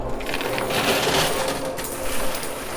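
Coins and $10,000 chips clatter and drop inside a coin pusher game, with continuous metallic jingling and tumbling at close range and no talk over it.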